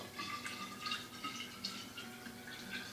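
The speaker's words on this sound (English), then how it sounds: "I'm going to dip it in, and I'm going to pour the glaze into this bottle form." Ceramic glaze poured from a brown container into a bottle form, a faint steady liquid trickle with soft intermittent splashes and drips, heard alone at low level.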